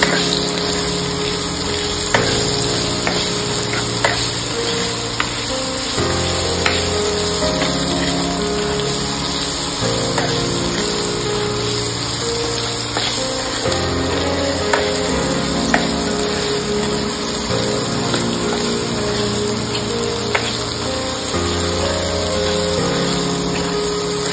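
Potatoes for Kashmiri dum aloo roast in a pan, giving a steady, close sizzle and hiss that runs the whole time, with soft clinks and a low background hum, and no one speaking.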